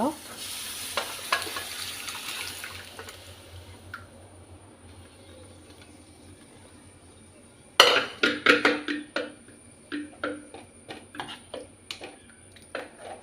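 Cooked toor dal being added to a tadka and stirred, with soft sizzling at first, then a run of sharp spoon-on-pan scrapes and clinks, close and fairly quiet.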